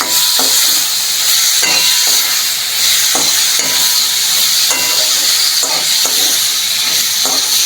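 Spices fried with a ginger and cumin paste in a pan give a steady, loud sizzle and hiss, broken by regular scraping stirs of a spoon against the pan.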